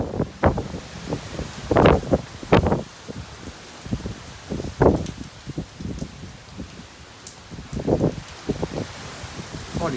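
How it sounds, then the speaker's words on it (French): Violent wind gusts in a thunderstorm over Clermont-Ferrand in Auvergne buffet the microphone in irregular bursts of rumbling noise, with rain pattering underneath and a few faint voices talking. "Oh, les rafales, là, ça se remet à souffler, là."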